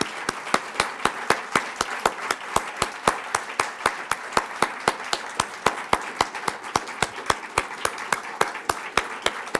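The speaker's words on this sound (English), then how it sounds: "let's give them a round of applause for all of them" Steady clapping from a small crowd, sharp even claps in a regular rhythm that continue without pause, with no voices.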